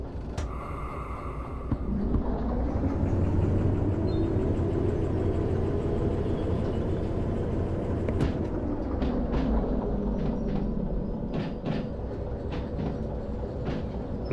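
Locomotive engine idling and rumbling in the train simulator game Derail Valley, a steady loud drone with clanking metallic hits in the second half as cars couple.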